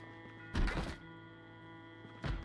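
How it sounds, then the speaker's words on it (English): A zombie bangs on a door in Project Zomboid, with two heavy thuds about two seconds apart over a steady low hum. "Right, there's another person banging."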